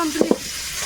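Fish frying in a hot pan, a brief sizzle broken by two quick scraping stirs close by.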